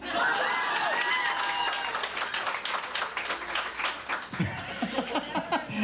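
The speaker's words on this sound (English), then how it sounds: "I'll hold for applause" Audience applause breaks out after a speaker's self-introduction at a creative showcase, dense clapping mixed with laughter and chuckles, fading into scattered claps near the end.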